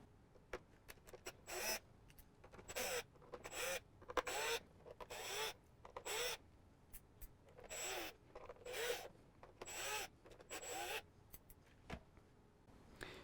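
Torx number 10 screws being backed out of a Fanatec McLaren GT3 sim racing wheel, heard as a sped-up run of short, close, gritty ratcheting bursts separated by brief pauses, with no talking.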